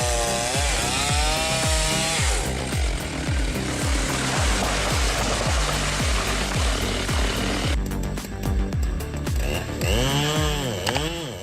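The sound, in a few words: Stihl MS-651 and MS-382 chainsaws cutting a giant tree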